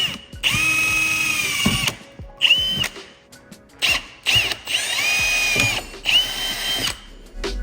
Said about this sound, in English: Got all the holes drilled, which is probably the scary part